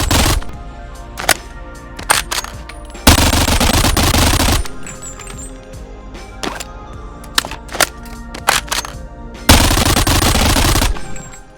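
Kriss Vector submachine gun fire in the VR game BONELAB, with loud, close bursts of very rapid shots separated by single clicks and mechanical handling sounds, and no voices.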